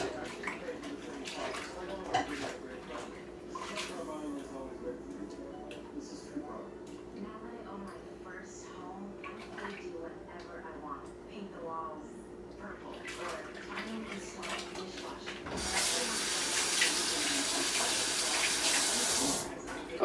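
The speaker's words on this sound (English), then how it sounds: "So I'm just rubbing my hands together in this bleach water." Hands rub and swish in bleach water in a kitchen sink, with running-tap splashing and sloshing throughout and a louder gush of water near the end; a person talks over the washing.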